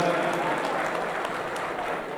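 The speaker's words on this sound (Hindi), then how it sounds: "जोराराम जी के लिए भी एक बार जोरदार तालियों से अभिनंदन" Audience applause for a cabinet minister at a Diwali gathering of a Rajasthani expatriate foundation: a steady, dense wash of clapping fills the short stretch at even loudness, without a break.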